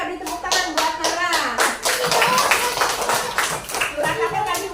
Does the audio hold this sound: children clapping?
yes